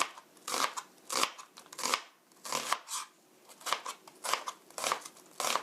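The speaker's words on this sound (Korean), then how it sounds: "하프 어니언, 양파 반개도 이렇게 얇게 채 썰어 주세요." Half an onion being thinly sliced with a knife on a cutting board, a steady series of crisp cutting strokes at close range with no talking.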